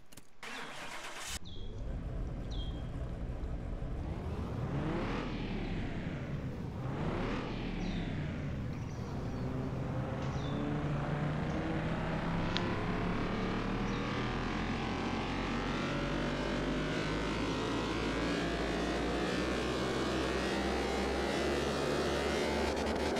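An Infiniti G35 starts up and runs on a dyno, its engine revving in two rising sweeps before settling into a loud, steady drone with a whining tone, close by and without talk.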